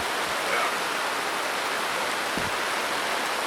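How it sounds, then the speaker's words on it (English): Steady rain pours over a sailboat anchored in a Caribbean bay off Dominica, a dense even hiss with a faint knock or two and no voices. "It's raining again."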